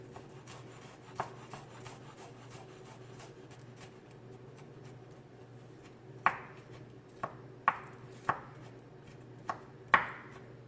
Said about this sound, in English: here I just minced up a little bit of garlic, just a little bit